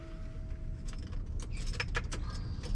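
Keys jangle in a quiet car as the vehicle is switched on, a cluster of faint metallic clinks over a low background hum.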